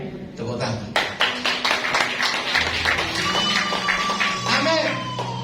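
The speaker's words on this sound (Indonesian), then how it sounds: "Tepuk tangan" A church congregation claps together in a rhythmic, sharp pattern. Voices and sustained tones sound alongside the clapping.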